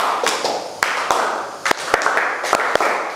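A run of crisp hand claps in a classroom ice-breaking concentration game rings out close up in a quick, uneven sequence, with no voices over them.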